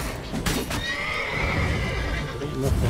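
A horse in The Witcher 3 on PC neighs loudly and close by, a drawn-out whinny accompanied by hoofbeats clopping, while a voice talks over it.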